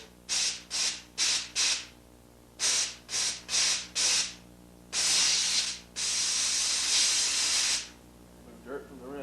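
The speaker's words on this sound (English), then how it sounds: "use the steam machine to blow any dirt out of it" A jewelry steam cleaning machine at about 60 to 80 pounds of pressure blasts steam onto a ring in a string of short hissing bursts, then two longer sustained jets, loud and close.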